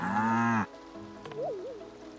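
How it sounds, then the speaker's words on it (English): Cows mooing in the farming video game Staxel: one long, loud, full low moo fills the opening, followed by a softer rising-and-falling bovine call. "we'll milk the cows anyway"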